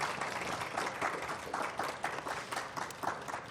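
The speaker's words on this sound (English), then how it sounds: "Can I get a round of applause?" An audience applauds after a panel talk on protecting churches, mosques and temples, a steady patter of many hands clapping at moderate distance with no speech over it.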